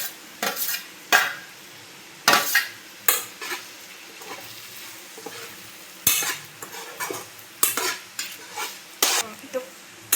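Capsicum, green chillies and curry leaves fry in a pan for veg Manchurian, with a steady sizzle broken by repeated sharp scraping and stirring strokes from a utensil, close and fairly loud, with no talking.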